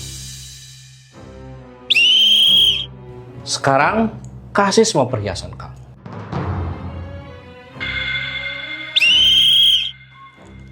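A shrill whistle sounds in two short sharp blasts, one early and one late, with a person talking in between.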